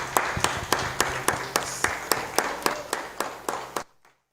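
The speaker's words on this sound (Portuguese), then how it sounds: "E as palmas louvam o seu nome." A church congregation claps in a steady, even beat during a worship service, roughly a dozen sharp claps over a low hum, moderately loud, then cutting off abruptly into near silence.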